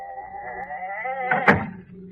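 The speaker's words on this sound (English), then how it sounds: "Close the door." A door closes with a solid, close thud during an old-time radio drama, landing over a sustained musical tone that fades afterward.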